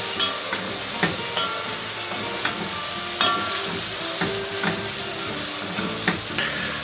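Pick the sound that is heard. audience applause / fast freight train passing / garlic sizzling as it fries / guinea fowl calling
garlic sizzling as it fries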